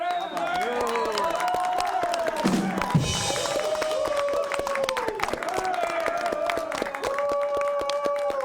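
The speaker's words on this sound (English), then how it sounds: "can I have a round of applause in my studio audience for all my guests tonight?" A studio audience at a late-night talk show applauds its guests with steady, dense clapping and some cheering, loud and sustained for the whole stretch, with voices calling out over it.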